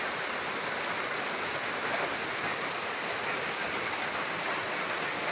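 Steady night rain falling outside, heard from a balcony as a dense, even hiss of drops that holds without pause.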